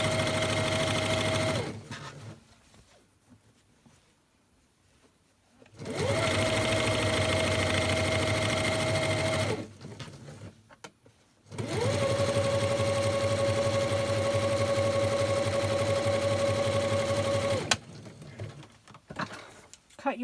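A sewing machine stitches along the fabric edge of a machine-washable lunch bag in three steady runs, each a sustained mechanical whir with a clear motor tone, separated by quiet pauses.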